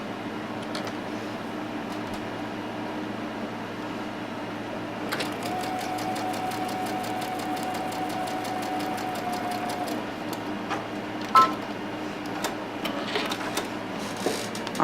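A sewing machine stitches a quilt block seam with a fast, steady mechanical whir and needle chatter, running continuously and close, with a few small clicks and knocks and no speech.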